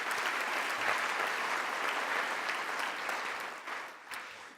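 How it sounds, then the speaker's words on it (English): Warm audience applause for the Homeless Task Force at a city's State of the City address, a steady wash of many hands clapping that thins out toward the end. "Let's give them a round of applause."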